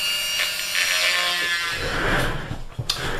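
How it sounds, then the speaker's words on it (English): Dremel rotary tool trimming the edge of a plastic part from a 1/48 Hobby Boss A-10A model kit, a close, steady grinding whir with shifting pitch as it bites into the plastic, no talking. "pop out the Dremel, which we've got here, as you can hear firing up"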